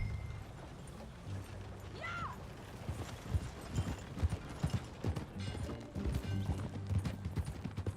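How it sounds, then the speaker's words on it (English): Horse hooves clip-clop at a steady walking pace in the Red Dead Redemption 2 epilogue, moderately close, with mechanical clinks and faint voices over a low game background. "That a new horse?"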